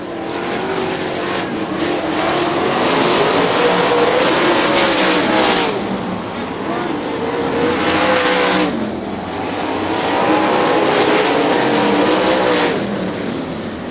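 410 sprint cars roar around a dirt track in a late-lap race, a loud continuous engine drone that swells and fades in waves as the pack sweeps past.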